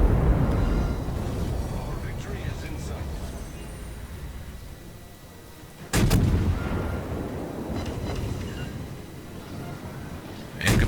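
Warship gun turrets firing in World of Warships: deep booming blasts with rumbling decay, one sharp salvo mid-clip and another at the end, over continuous game engine rumble.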